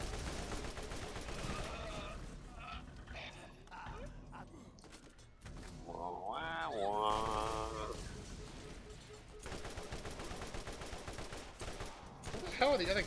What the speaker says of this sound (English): Stop with the bullets, please.